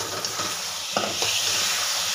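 Washed rice and dal being sautéed for Khandeshi khichdi, a brief burst of close, loud sizzling with quick scrapes and taps of a spoon stirring through the pan.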